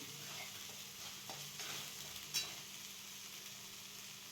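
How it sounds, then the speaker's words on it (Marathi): Masala of garlic and ginger sautéing in oil for a fish curry sizzles in a soft, even hiss with faint stirring scrapes, quiet and continuous. "आता चांगलं तेलसुद्धा चांगलं परतून घ्यायचं आपण हे"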